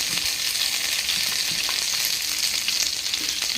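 Kayyunni (false daisy) leaves fry in herbal hair oil, giving a steady, dense, close sizzle that holds at an even loudness throughout, with faint crackles and no voices.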